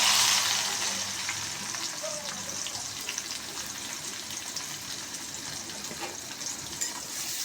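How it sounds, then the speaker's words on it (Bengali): Chopped onions fry in hot oil with browned cumin seeds, a constant close sizzle with faint stirring taps throughout and no speech. "তেলে সুন্দর করে নরম করে ভেজে নেব"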